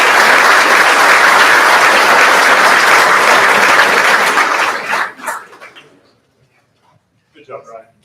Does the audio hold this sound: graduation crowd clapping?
yes